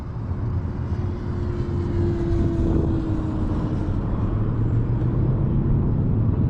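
An RC Mitsubishi Zero model plane with an 1100mm wingspan making a full throttle pass, a steady electric motor whine held under a broad rushing roar from nearby, loud and continuous throughout.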